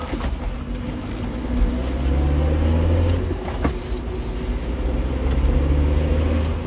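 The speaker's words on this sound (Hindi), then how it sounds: "प्रिया की बात सुनकर राघव ने गाड़ी स्टार्ट की और गाड़ी फुल स्पीड में भगाने लगा।" A car engine roars steadily as the vehicle speeds away at night in a horror story scene, a loud continuous drone with rising and falling intensity and no voices.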